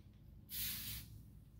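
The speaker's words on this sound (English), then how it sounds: "So spray a little bit" A single short hiss of spray starch is misted onto a raffia bucket hat, lasting about half a second in a quiet room, close to the microphone.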